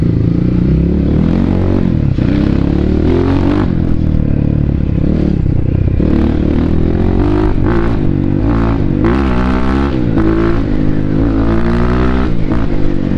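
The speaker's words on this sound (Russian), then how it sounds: "Очень резкий мотор, хороший, мне нравится." A BSE Z7 motorcycle engine revs and accelerates hard, its loud, throaty roar rising and falling in pitch through repeated gear pulls, close and continuous.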